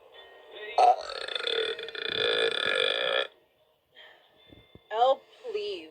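One long, rumbling belch from a woman who has downed plenty of fizzy drink stretches over a couple of seconds, followed by a short pause and some brief speech.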